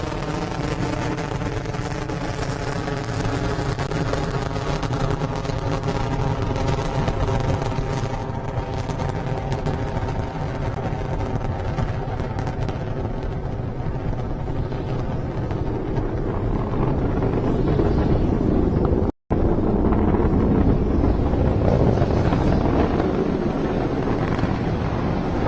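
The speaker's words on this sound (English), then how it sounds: "Falcon 9 is clear the tower. Stage 1 propulsion is nominal." SpaceX Falcon 9 rocket climbing after a July 2017 launch, a loud, continuous, broadband roar with deep rumble and crackle that holds steady throughout, heard from a distance with no talk over it.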